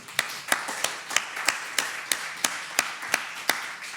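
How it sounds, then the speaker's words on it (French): Sharp, evenly spaced claps ring out at a steady beat, about a dozen strong hits in four seconds, loud and close with a bright, woody snap rather than a broad wash of applause. "Est-ce qu'on peut faire un tonnerre d'applaudissements vraiment pour les pépites du Mboa?"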